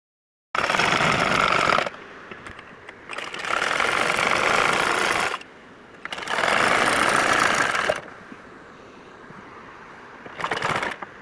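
A sewing machine runs a straight seam on a dress in three long bursts and a short final one, a close steady whir with brief quiet gaps between runs.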